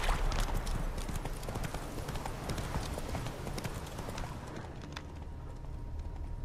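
Rapid hoofbeats of a galloping horse in the video game The Witcher 3: Wild Hunt pound steadily and close, a continuous rhythmic clatter that eases slightly toward the end.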